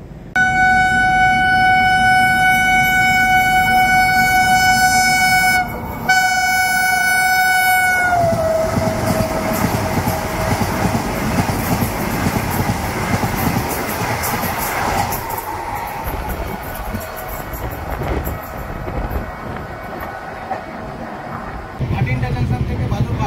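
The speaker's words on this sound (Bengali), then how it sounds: "এখান থেকেই পার করানো হবে লখনৌ গোরখপুর বন্দে ভারত এক্সপ্রেসকে" The Lucknow–Gorakhpur Vande Bharat Express passes a halted passenger train, opening with a long, loud, steady horn blast and then a continuous roaring rush of wheels and carriages close by.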